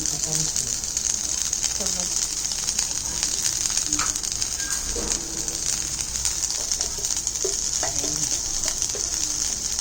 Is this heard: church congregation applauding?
no